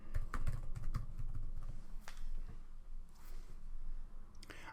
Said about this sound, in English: just type in the email address in full as it is